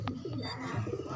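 Pigeons cooing close by, a soft low burbling coo from young birds in a loft area in Mabalacat, Pampanga, brief and steady with faint background noise.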